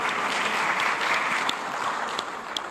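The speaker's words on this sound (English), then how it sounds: "I think the panel deserves a round of applause." Audience applause for a panel at an economic dialogue event in Ghana, a steady dense clapping from a crowd that holds evenly throughout with a few sharper individual claps standing out.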